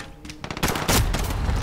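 Gunfire from Call of Duty Modern Warfare in a hardcore Shoothouse match, with scattered shots that swell into a loud, dense burst of rapid automatic fire toward the end.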